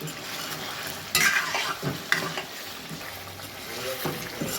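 Kadai chicken with black pepper being stirred in a pan, a steady sizzle broken by a few sharp scrapes and clinks of a spoon against metal, close and moderately loud.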